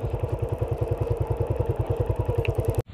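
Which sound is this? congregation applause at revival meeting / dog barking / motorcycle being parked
motorcycle being parked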